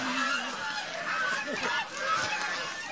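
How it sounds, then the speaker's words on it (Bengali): Geese on a commercial goose farm give several nasal honks at moderate distance, mixed with other fowl calls under a steady background of voices. "রাজহাঁস"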